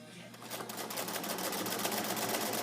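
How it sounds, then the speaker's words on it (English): A sewing machine stitches along a flat seam, its needle chattering in a fast, even rhythm that starts up and then runs steadily. "and just stitch along there very flat."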